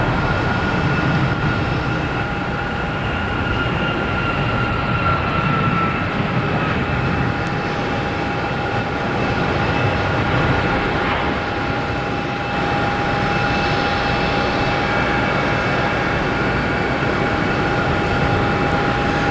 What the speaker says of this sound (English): we have United Airlines taking off, heading to San Francisco